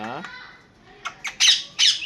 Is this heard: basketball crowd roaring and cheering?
no